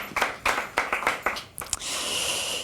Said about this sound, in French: on peut l'applaudir, Régis